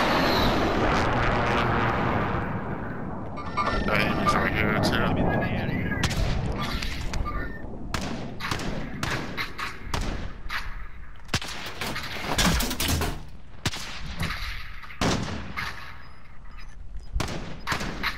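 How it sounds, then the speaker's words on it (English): Airstrike in a Call of Duty battle royale match: aircraft roar overhead followed by a string of sharp explosions and gunfire bursts, loud and close, with scattered crackling impacts continuing throughout. "I'm going to call airstrike in."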